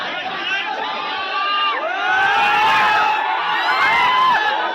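A packed cinema crowd on the first day of the film Sangharsh 2 shouts, whoops and cheers in loud overlapping voices, swelling and holding strong, with someone talking through the noise.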